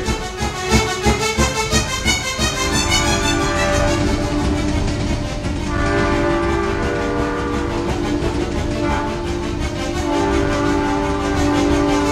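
A loud train passes with its horn blaring, used as a stage sound effect at an Odia jatra performance. The horn's sustained tones sit over a rumbling, rhythmic clatter of wagons that continues steadily throughout, with no voices.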